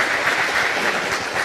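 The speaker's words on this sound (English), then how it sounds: "We should first start by giving him a quick round of applause" A short burst of audience applause at a talk, a dense, even wash of clapping with no voices over it.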